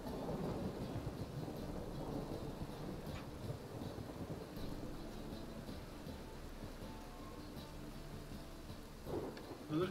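Thunderstorm ambience in The Witcher 3: steady rain hiss with low rumbling thunder rolling throughout, a broad continuous wash of sound with a slight swell near the end.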